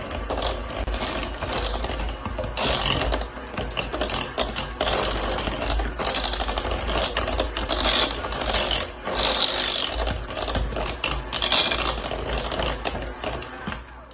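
A steady, loud electric mixer whirs continuously, beating lard, sugar and eggs into cookie batter, with a dense grinding churn that holds without pause throughout.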